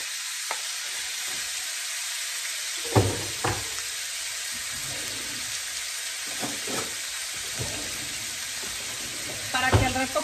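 Beef for meatballs sizzles and fries in a pan, a steady close hiss broken by a few clacks and scrapes of stirring.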